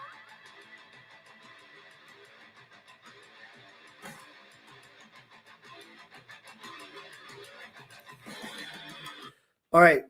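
A horse whinnies loudly in a short, sharp burst at the very end, after a stretch of busy mixed sound with voices.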